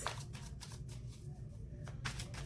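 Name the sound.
shuffling tarot cards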